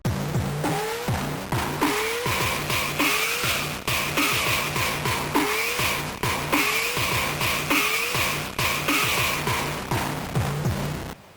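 A gritty synthesizer plays a fast repeating pattern of sliding, pitch-bending notes over a driving rhythm, loud and continuous for several bars without any voices.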